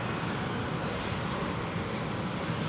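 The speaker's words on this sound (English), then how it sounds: "EasyJet from Venice coming in." An EasyJet jet arrives at Edinburgh from Venice, producing a constant, loud, broadband engine rush that holds level throughout.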